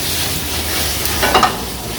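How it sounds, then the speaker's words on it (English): Aromatic vegetables sauté for osso buco, a loud close hiss of frying in a pan with a brief clink of a utensil stirring near the middle, no voices. "So you want to saute them, not too much color"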